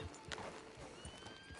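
Steady clip-clopping horse hooves with a faint whinny over a low ambient bed, fairly quiet and continuous, in the video game Red Dead Redemption 2 Online.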